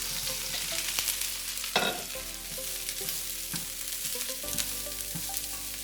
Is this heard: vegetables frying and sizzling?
yes